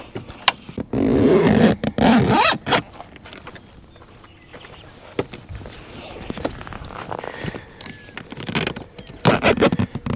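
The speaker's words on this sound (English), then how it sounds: "I want the zipper to be as smooth as possible." The zipper on a Thule rooftop tent is pulled closed in several rasping bursts, loud and close at first, then quieter tugs and rustles, with a final run of zipping near the end.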